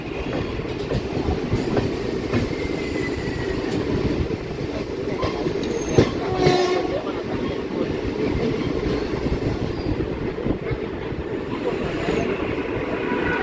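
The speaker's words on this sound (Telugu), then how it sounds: "తాంబరం వెళ్తుంది అనమాట మెము ట్రైన్." A MEMU electric train on the Tiruvannamalai–Tambaram line near Katpadi Junction gives a loud, continuous rumble with rhythmic wheel clatter and a brief squeal partway through. The noise stays steady throughout.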